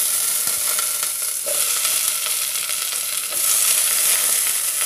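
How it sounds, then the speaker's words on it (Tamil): Chopped brinjal and onion fry in hot oil for a brinjal tomato chutney, a steady, close, dense sizzle that runs unbroken with faint stirring ticks and no voices. "இப்போ நான் அறுத்து வச்சுருக்கிற கத்திரிக்காயும் போட்டுக்கலாங்க."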